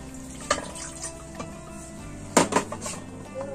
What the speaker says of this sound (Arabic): اول شيء بدنا نكب نص كاسة المي